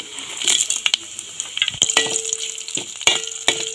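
Dried red chilies frying in oil in a pan while making a banana-blossom and mackerel thoran, with bursts of crackling sizzle, sharp pops and stirring clinks from a utensil, close and uneven, no speech.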